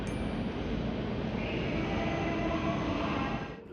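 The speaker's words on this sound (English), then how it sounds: "our train finally pulls in to Hamburg Hauptbahnhof" Snälltåget international express train of five carriages pulling into Hamburg Hauptbahnhof, a continuous rumbling roll with a faint high whine, steady and fairly close before cutting off sharply at the end; no speech.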